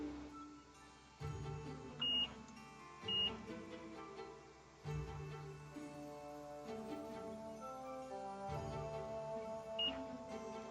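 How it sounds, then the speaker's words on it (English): A multimeter in continuity mode tests a fuse inside a PlayStation, giving three short, clear electronic beeps spaced apart over a quiet background of soft tonal hum and clatter. "And we're gonna go to beep beep mode."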